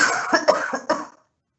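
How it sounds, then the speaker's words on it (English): A burst of several harsh coughs in quick succession during a council planning committee meeting, close and loud, ending abruptly into silence. "Excuse me, I'm gonna have to cough"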